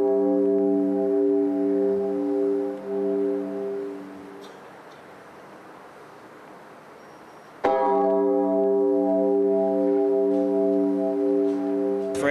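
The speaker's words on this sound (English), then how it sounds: "For every bell that goes off" A large memorial bell, rung once for each of 13 miners, rings with long, sustained resonant tones that fade into quiet, then a single loud strike rings out again and hums on.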